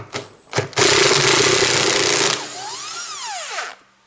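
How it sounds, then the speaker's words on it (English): An electric impact driver with a 10mm socket works on the motor bolts of a washing machine, a loud sustained buzzing burst after a couple of short knocks, then a falling whine as it spins down. "I have in here 10mm socket, an electric impact driver"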